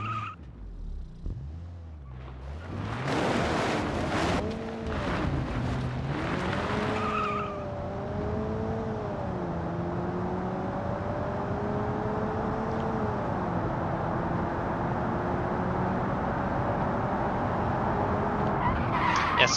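Tyres screech as a car brakes hard and skids in the Automation racing sim, a loud sustained squeal after a short engine run-up that rises and wavers over a steady road roar for most of the stretch.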